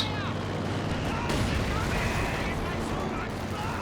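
Sustained battle din from a Company of Heroes 2 match, with dense crackling gunfire that could be a machine gun among other weapons, running steadily at constant loudness under a commentator's voice.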